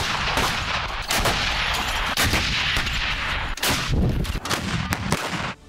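Gunfire and artillery on a battlefield, a dense, continuous barrage of loud, overlapping shots and blasts with sharp cracks standing out throughout, with no voices over it.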